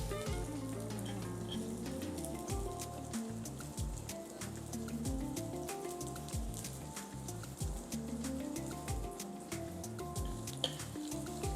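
Beef for sukiyaki fries in a hot pan with a strong, continuous sizzle and popping crackle, close up and steady, with no talk.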